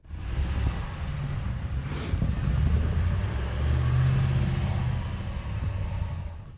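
A RAM 1500 pickup truck engine revving as it drives out of snow on traction boards, a steady close rumble swelling and easing over a few seconds.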